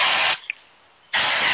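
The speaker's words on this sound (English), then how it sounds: "you're going to spray it with hairspray like you've never sprayed hairspray before in your life" Hairspray sprayed onto curled hair comes in two loud, close aerosol hisses, one short burst, then a pause with a faint click, then a second burst.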